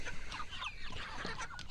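Chicken clucking from pastured poultry, several short close clucks in quick uneven succession over steady outdoor background noise.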